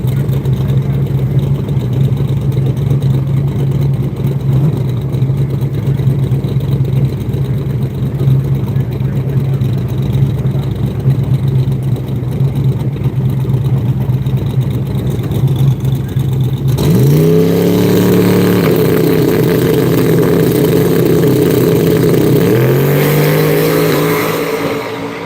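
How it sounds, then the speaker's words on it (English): A turbo wagon and a Ford Mustang race at a drag strip during Sick Week in Gainesville, Florida. A loud, steady engine drone gives way to roaring, rising revs as they launch, with a voice talking over the noise. "Turbo wagon with a Mustang on the other side."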